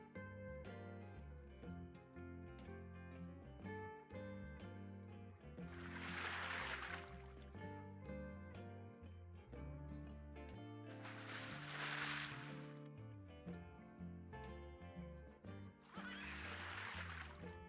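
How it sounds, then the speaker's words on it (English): Water splashing sound effect for a computer-animated pig scene, three broad splash bursts rising over steady background music, moderately loud. "we also need the sound of water splashing."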